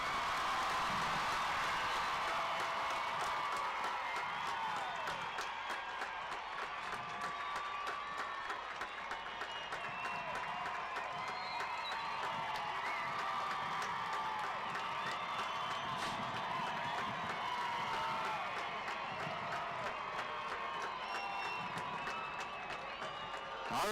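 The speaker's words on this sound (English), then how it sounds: "Let's give them a big old round of applause" A large commencement crowd at the 2022 Hobbs High School graduation ceremony claps and cheers for the graduates in sustained, dense applause with whoops and shouts, steady and loud throughout.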